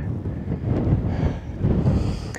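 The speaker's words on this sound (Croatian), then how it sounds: "ovdje je već prohladno jer puša baš dosta jak vjetar" Strong, cold wind gusts across the microphone on the 1708 m summit of Velika Duvjakuša on Dinara, a loud, close buffeting roar that swells and eases in waves with no talk.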